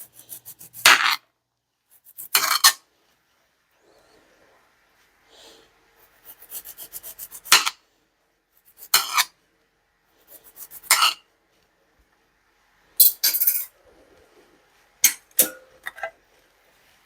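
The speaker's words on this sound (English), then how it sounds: "I'm just going to trim the brown spots off." A knife trims brown spots off a head of cauliflower, giving short, crisp scraping and cutting strokes in scattered bursts separated by quiet gaps, close and fairly loud.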